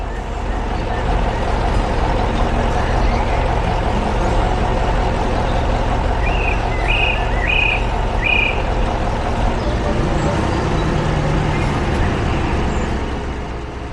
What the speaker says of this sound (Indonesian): Sekarang giliran ekskavator kuning yang datang. Mesinnya sangat kuat untuk membantu pekerjaan di kebun.